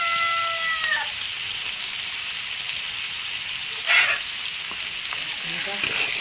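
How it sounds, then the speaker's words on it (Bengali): Country chicken sautés with salt and turmeric in a pan, giving a soft steady sizzle with a brief clatter of stirring midway, fairly close but moderate in level. "এবার এই মাংসটা আমি দিয়ে দেবো স্বাদ মতো লবণ হলুদ গুঁড়ো দিয়ে দেবো"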